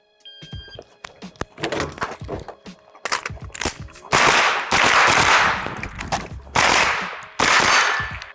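Rapid strings of close, loud gunshots crack in bursts with short pauses between, echoing sharply outdoors at a shooting range.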